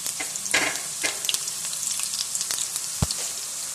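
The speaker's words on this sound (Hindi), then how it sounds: "इसके अंदर जो बारीक प्याज काटा था सबसे पहले इसको शामिल करेंगे और इसको हमने ठीक ब्राउन करना है।" Finely chopped onions fry in about five tablespoons of oil for a Lahori-style chicken jalfrezi, a close, continuous sizzle with stirring scrapes and a sharp utensil knock near the end.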